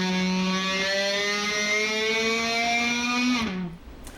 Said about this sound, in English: bending it, and then bowing it at the same time